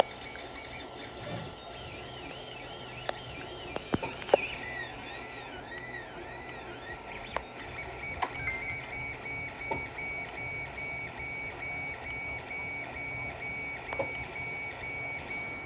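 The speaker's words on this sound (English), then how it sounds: "It is a 3D printer, bro. Yep, 3D printer," A 3D printer runs while printing a PLA fidget spinner, its stepper motors whining and sweeping in pitch with rapid movements, a continuous mechanical hum broken by occasional clicks.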